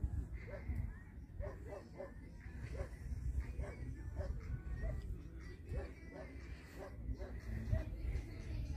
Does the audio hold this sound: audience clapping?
no